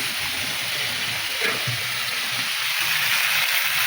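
Continuous hissing sizzle of phasa fish heads frying in oil, steady and fairly loud from start to finish, with no talking.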